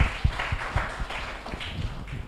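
Short burst of audience applause at a church talk show, scattered individual claps with thumping low hits, moderately close and brief, no talk over it.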